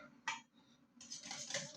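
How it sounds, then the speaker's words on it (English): Metal spoon clinking and scraping against a pot of curry, a sharp knock followed by quieter rattling and then a busier stretch of stirring, close by. "mix it all together"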